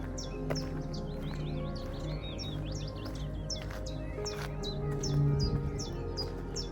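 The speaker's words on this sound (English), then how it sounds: "the chiff-chaffs are making noise, continuous noise" Chiffchaffs chirp repeatedly in quick high-pitched calls over a steady low background hum, calling from a short distance in the evening.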